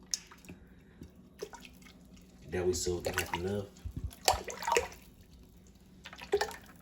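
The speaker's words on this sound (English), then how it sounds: "All I'm gonna do now just pour the oil on there." Cooking oil is poured into a deep fryer for homemade churros, with a trickling, dripping pour close by under someone talking.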